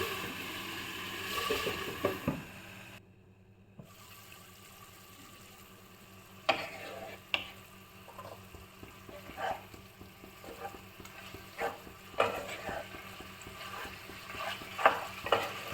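Pork pieces fry in a pan for an Assamese pork curry, a low crackling sizzle broken by repeated scrapes and clatters of stirring, with a brief quiet gap early on.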